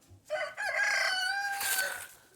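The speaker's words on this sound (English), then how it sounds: "These are all of our roosters right now." Several roosters kept by a hoop greenhouse let out a loud, close, drawn-out crow with harsh overtones, trailing into clucks, with no talking over it.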